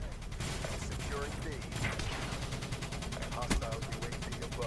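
Steady automatic gunfire rattles on and on in a video game battle as enemies are shot, a rapid, even stream of close shots with one heavier blast and talk running over it.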